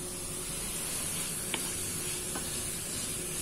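Peas and chopped leek fry in oil in a pan while a rice dish with egg is being made, producing a steady, moderate sizzling hiss with a couple of small pops, close and without voices.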